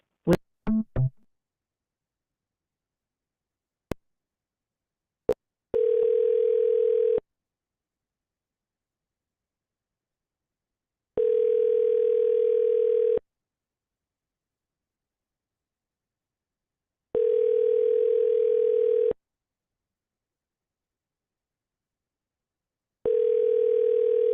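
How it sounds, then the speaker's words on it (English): A voicemail system's recording tone: a few short clicks and pips, then a steady mid-pitched beep repeating four times in long even bursts separated by silence on a phone line. "At the tone, please record your message."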